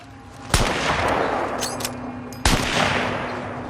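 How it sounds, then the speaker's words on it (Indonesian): Two sharp gunshots about two seconds apart, each a loud crack followed by a rumbling echo under a steady background hum. "Sontak hal itu membuat Scofield melepaskan tembakan"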